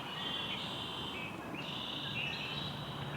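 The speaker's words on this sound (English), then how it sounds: "It's quite noisy actually, so there's a lot of birds in there." Birds call from trees beside a lake, a steady, fairly faint chorus of high chirps and trills over a constant bed of outdoor background noise.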